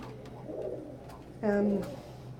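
Pet birds in an overnight pen give a single clear coo of about half a second over a low background hum.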